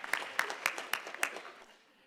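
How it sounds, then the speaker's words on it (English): A brief scatter of claps for poster presenters, a handful of sharp, separate hand claps at an uneven rhythm, fairly faint and fading quickly, with no talk over them. "Could we get a round of applause for all of our poster presenters over lunch?"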